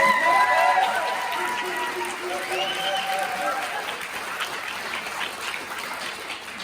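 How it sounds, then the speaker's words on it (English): Audience applause for a speaker at a public meeting about a compressor station, a broad wash of clapping that starts loud and slowly eases over several seconds, with voices mixed in beneath. "if you are not familiar with Nathan, a little round of applause for President."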